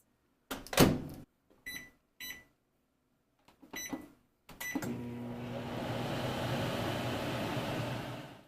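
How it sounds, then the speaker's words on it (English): A few clicks and beeps of buttons being pressed, a door thunk, then a microwave hums steadily as it starts heating a tortilla on a paper plate. "I'm going to put it on this paper plate and I'm going to microwave it for"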